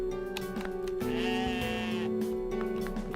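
A goat in the video game OneShot bleats over a humming backdrop, its wavering cry rising and holding for about a second, clear and fairly close, with faint shorter sounds around it.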